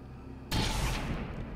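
A soldier's weapon firing at a sarcophagus in XCOM 2, one sudden loud blast that starts sharply and rolls on as a dense, sustained roar to the end.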